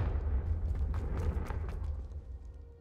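The Confringo spell in Hogwarts Legacy sets off a dull, booming blast with a heavy low rumble and a brief crackling burst that fades over a couple of seconds.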